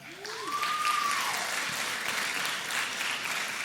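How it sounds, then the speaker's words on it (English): An audience at a sports awards ceremony applauding, a sustained wash of many hands clapping at steady volume, with a brief rising tone sliding over the start. "So give yourself a round of applause for that."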